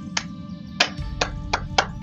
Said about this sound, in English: I decided to play along and clap my hands together.